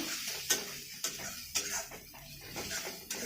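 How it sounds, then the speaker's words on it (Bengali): Pieces of snakehead fish sautéing with turmeric and chili in a pan, a soft low sizzle punctuated by regular clinks of a spatula against the pan, about one every half second, close and fairly quiet. "হলুদ লঙ্কাটা দিয়ে আবারও কষে নেবো"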